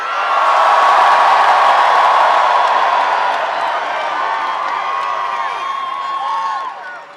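A large rally crowd at the Tacoma Dome cheers and whoops loudly, a broad roar with scattered shouts and clapping that slowly eases before cutting off.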